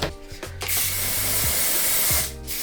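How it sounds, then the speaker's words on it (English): Heat protectant spray hisses onto a wig in one long, close, loud burst, with short clicks of the nozzle before and after. "So I'm spraying this heat protectant."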